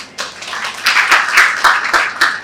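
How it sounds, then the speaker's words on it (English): An audience applauds after a speaker's thanks, a steady wash of many hands clapping that swells and holds at full volume through the whole stretch. "Give yourselves a round of applause."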